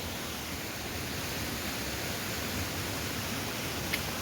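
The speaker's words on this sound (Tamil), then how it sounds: "நான் பேசுகிற சில வேலை கேட்காம போகும், தண்ணி சத்தம் அவ்வளோ" Rushing water at a hidden spot near Balangoda, a steady dense roar from a waterfall or stream that stays constant and unbroken throughout, with no voices.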